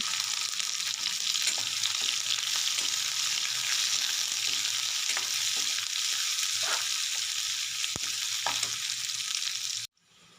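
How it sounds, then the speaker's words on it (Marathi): Onions sautéing with chillies in a pan for a red amaranth dish give a steady close sizzle, with occasional stirring scrapes, before cutting off abruptly near the end. "मिरच्या छान परतल्या आता त्यात कांदा टाकून तो गुलाबी होईपर्यंत परतवू"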